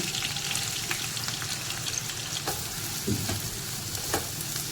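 Garlic, green chilli and onion fry in a pan over low heat, giving a steady close sizzle throughout with occasional scraping stirs and light clinks from the spatula.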